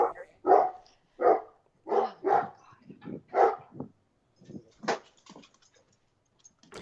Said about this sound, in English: The dog is going to start barking.